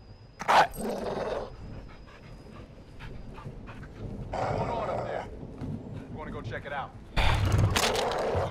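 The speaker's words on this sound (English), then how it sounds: "See the caged dog?" A caged dog in the Call of Duty Modern Warfare 2 video game barks and pants in short loud bursts, with game ambience and speech around it.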